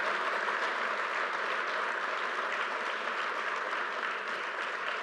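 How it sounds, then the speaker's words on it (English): Steady, dense applause from a large crowd celebrating the completed Terminal B at LaGuardia Airport, loud and continuous throughout with no break. "Let's give that a round of applause."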